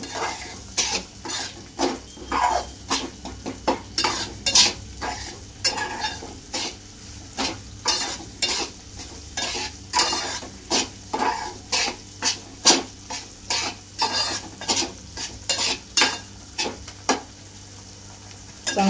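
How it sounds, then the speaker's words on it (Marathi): Semolina roasting in plenty of ghee, stirred with a utensil scraping a metal pan in a steady rhythm of close, sharp clinks and scrapes over a soft sizzle. "चांगला रवा भाजून घ्यायचा घीमध्ये।"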